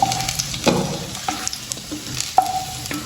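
Sliced potatoes frying lightly in hot oil in a pan, a close, continuous sizzle broken by several sharp scraping stirs of a metal spatula, with no voices.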